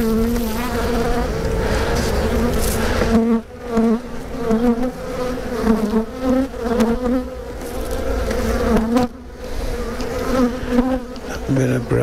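Honey bees from a nucleus hive buzz loudly and steadily during an inspection. The dense, close droning swells and dips without a break for the whole stretch.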